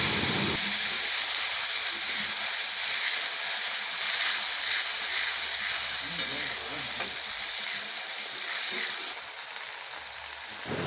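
Ground spice paste sizzles and hisses steadily in hot oil while being stirred for a rohu fish curry, a loud continuous frying close by, easing slightly near the end.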